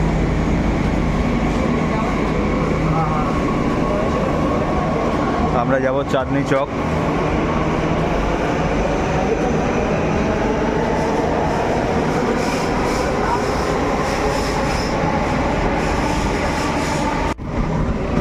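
A Delhi Metro train draws into the platform with a steady, loud rumble and rising electric whine that runs throughout. A person speaks briefly partway through, and a sharp cutoff comes near the end.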